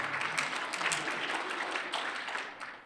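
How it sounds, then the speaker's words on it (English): An audience at a live IT professionals' forum Q&A gives a round of applause, many hands clapping in a steady, fairly soft patter that tapers slightly toward the end. "Let's give a round of applause."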